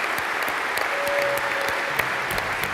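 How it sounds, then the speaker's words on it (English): Audience applause at a SolidWorks World general session for Model Mania 2012 winners, a steady wash of clapping with a few sharp individual claps and a faint voice underneath. "Let's give a big round of applause for all these guys up here."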